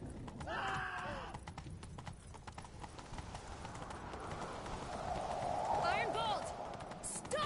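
A horse gallops in The Witcher 3, rhythmic clip-clop hoofbeats running throughout at moderate distance, with brief character voices over the top and a short whinny near the end.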